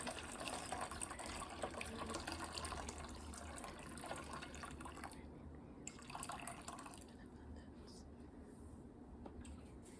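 Hot water poured into a bowl for a rose facial steam, a steady pouring and dripping wash that thins out partway through, with a voice talking over it.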